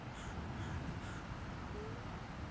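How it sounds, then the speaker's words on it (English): A crow caws on a beach at an eagle, several harsh calls sounding at moderate distance over steady outdoor background noise, with no one talking. "And the crow is not happy about it."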